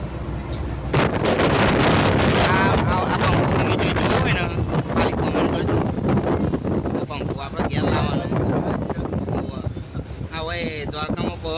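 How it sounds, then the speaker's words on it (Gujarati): Strong wind at Dwarka buffets the microphone with loud, continuous rumbling gusts, while a person talks faintly beneath the roar. "પવન બહુ આવે બધાને બીમાર પડે એવી બીક લાગે એટલે બારીઓ બંધ રાખવાનું જોઈએ."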